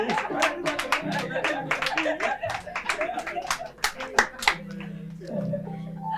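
A short burst of scattered hand clapping from a small group, mixed with voices and chuckles.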